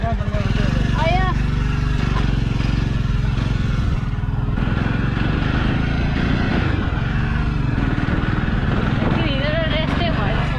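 A motorbike riding toward Nagarkot gives a constant, loud, close engine drone with wind buffeting, while riders chat over it throughout.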